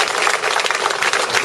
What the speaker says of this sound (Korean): 여러분 스스로 비정상들한테 크게 또 박수 한번 주시죠